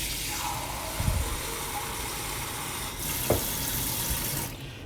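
Water runs steadily from a tap to fill a cup for chicken pelau being cooked in a pot, a continuous close hiss with a couple of soft knocks, stopping abruptly at the end; no one speaks.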